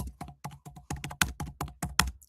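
Rapid, crisp keystrokes on a computer keyboard, about a dozen clicks in an uneven rhythm, close and clear with no talking.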